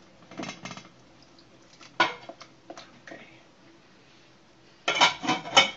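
A spoon stirs Christmas fruit punch in a cooking pot, making short bursts of scraping and clinking against the metal with quiet pauses between them and a longer, louder stir near the end.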